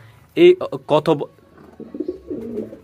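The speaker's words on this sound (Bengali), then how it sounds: "আমাদের এই ফেশওয়ারি কবুতরগুলো দেখায় আমি আপনাদেরকে" Peshawari pigeons give soft, low cooing near the end, after a person speaks briefly at close range.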